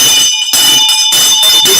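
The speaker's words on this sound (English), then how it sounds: "That is what the bell was ringing for." A bell rings as an alert to open a news segment, sounding in loud, steady bursts with brief pauses between them.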